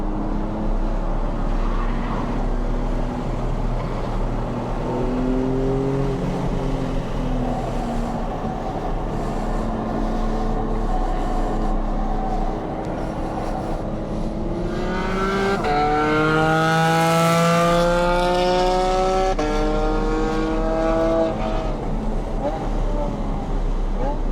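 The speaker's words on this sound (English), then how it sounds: "I'm just gonna do a little cool down lap here and head into the pits" Porsche 911 992 Carrera GTS on a race track during a relaxed cool-down lap, its engine droning steadily with gear changes and a brief swell in revs, under continuous in-car talk.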